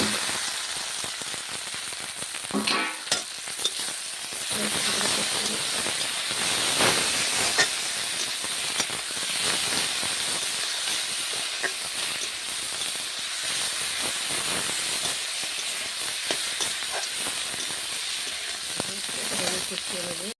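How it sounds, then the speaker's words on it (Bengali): Chilli, cumin and ginger fry with onions in a hot pan for a home-style chicken kosha with potatoes, giving a steady, loud sizzling hiss that runs unbroken with a few brief spatters. "এবার এখানে আমি পরপর সব মশলাগুলো দিয়ে দিব, লঙ্কা, জিরা, আদা সব দিয়ে দেবো।"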